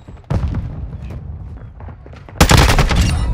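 Gunfire in a Call of Duty Modern Warfare 2 team deathmatch, loud close shots and bursts with rumbling booms, ending in a dense rapid volley of automatic fire.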